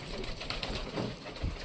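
Pigeons coo softly in short repeated phrases, fairly close, with a faint flutter of wings in the background and no talking.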